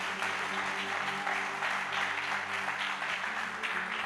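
A church congregation applauding, steady broad clapping throughout with a faint background hum and swells of noise, no clear speech.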